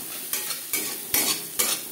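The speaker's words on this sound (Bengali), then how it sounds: "পেঁয়াজ লালচে করে ভেজে নেব। পেঁয়াজ ভাজা হয়ে এসছে।" Onions fry in a pan under a continuous crackling sizzle, broken by four sharp scraping stirs spaced roughly evenly through the short stretch, close and fairly loud.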